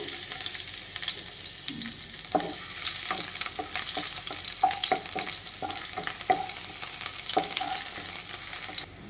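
Crushed garlic sizzles loudly in fresh hot oil in a karahi, a dense continuous crackle broken by repeated clinks and scrapes of a stirring spoon.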